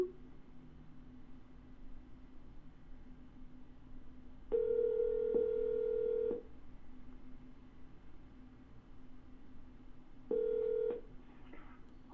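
A telephone line carries two long, steady calling tones, separated by a few seconds of faint line hiss, while a call is redialed.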